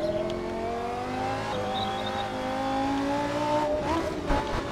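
Lamborghini engine in a racing video game holds a steady high whine with rising and falling harmonics as it revs through a chicane, with a brief rough, scraping patch near the end, loud and continuous with no talking.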